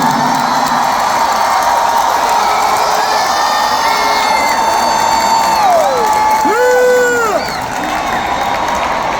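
A concert crowd at a show in Philadelphia roars with cheering, whoops and applause, a dense loud wall of noise with scattered high shouts and whistles rising above it, continuous and close.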